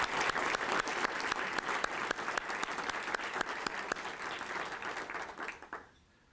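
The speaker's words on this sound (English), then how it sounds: "I'd like to just have a round of applause for the great people in our office." An audience gives a round of applause at a formal speaking event, a dense, sustained patter of many hands clapping at moderate distance that tapers off and stops near the end.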